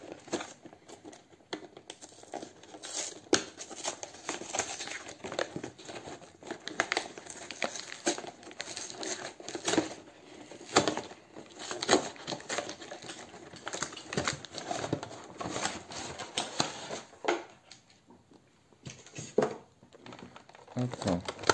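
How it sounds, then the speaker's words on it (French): Someone tears open a cardboard collector box whose glue was badly applied, making a long run of close crinkling, ripping and scraping noises that come in uneven bursts, with a person talking now and then. "la colle, elle est mal mise. Donc, du coup, je suis obligé de le déchirer."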